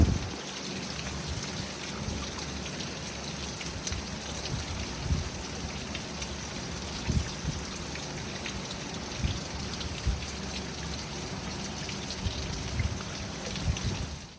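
Heavy rain pours steadily throughout, a dense continuous hiss of drops hitting surfaces, with no voices.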